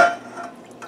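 Water poured into a measuring cup while a honey garlic sauce for canned chicken wings is prepared: a brief, close liquid trickle that fades quickly, with no talk over it.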